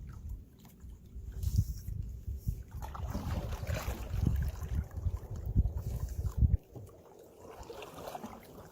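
A motorboat approaches and passes on open water, heard from a canoe off an island, as a low rumbling wash that swells and fades with wind buffeting the microphone; no one speaks.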